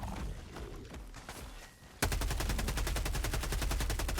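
A Liberator rifle with a 60-round drum fires a sustained, rapid automatic burst in Helldivers 2, loud and evenly paced, coming in sharply after a quieter stretch of background battle noise.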